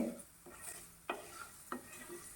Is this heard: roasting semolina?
yes